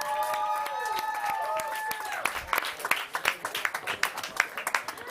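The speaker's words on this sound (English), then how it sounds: "Let's give a round of applause." A studio audience at a live show bursts into clapping after a sung note fades, the claps growing sharper and more distinct, close and steady until the end.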